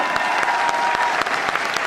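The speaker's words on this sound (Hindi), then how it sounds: "दोस्त, जोरदार तालियां।" An audience at a company speech event gives a brief, loud burst of steady clapping.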